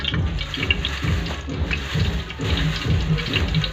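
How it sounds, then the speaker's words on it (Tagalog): Water drains from sliced bananas being prepared for banana chips, a steady close trickle and splash with soft rhythmic sloshing throughout. "I-drain ko po to guys para mawala ang tubig"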